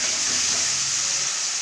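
Sweet pumpkin pieces with salt and turmeric being stirred in a hot pan, a continuous bright sizzle with faint scraping, close and steady throughout.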